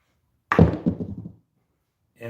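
Craps dice strike the side of a casino table with a hollow thunk, then clatter and tumble briefly. A second burst follows after a short silence.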